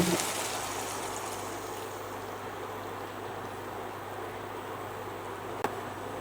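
A cup of water is poured into a simmering dried fish (loitta shutki) curry, giving a continuous close hissing, trickling wash that holds steady and ends with a brief clink.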